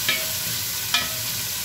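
Plenty of onions sautéing in a pan for Filipino-style molokhia (saluyot), a continuous close sizzle broken by two brief sharp clicks of stirring.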